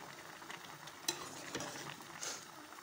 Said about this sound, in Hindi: हल्के हल्के हाथों से हमने इसको मिक्स करना है।